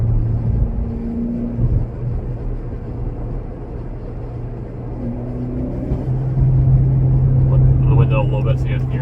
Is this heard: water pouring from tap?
no